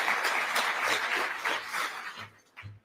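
Audience applause at the opening of a Pancakes and Politics morning panel session, a steady wash of clapping from a crowd that thins out near the end, with a few low thumps as it dies away.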